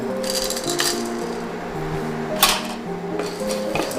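Cinnamon pieces, cardamom pods, a bay leaf and peppercorns rattle and skitter against a dry metal wok while being tossed and roasted, a steady close scraping clatter with one sharper clink.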